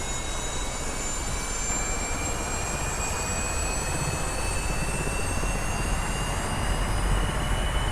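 An OH-58D Kiowa helicopter turbine starts up in the DCS World flight simulator with a steady, loud engine roar. High whines climb slowly in pitch as the engine spools up, and there is no talk.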